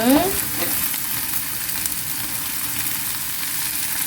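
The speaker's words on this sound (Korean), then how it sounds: "양파가 좀 투명해질 때까지 볶아줄 거예요." Steady broadband sizzle of onions stir-frying in a hot pan, continuous and fairly loud, with an occasional scrape of stirring near the start; no voices.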